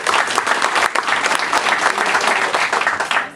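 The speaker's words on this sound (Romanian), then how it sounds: "am să vă rog să o primiți cu aplauze" A seated audience at a morning club event claps to welcome someone speaker, a short, loud burst of close, busy applause that fades at the end.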